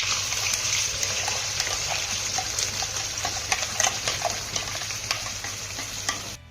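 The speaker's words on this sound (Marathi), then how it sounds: "आता हे वाटण आपल्याला तेलामध्ये छान असं मिक्स करून घ्यायचं आहे" Spice paste being stirred into hot oil with cumin and curry leaves in a pan, giving a steady close sizzle with frying crackle and scraping stirs throughout.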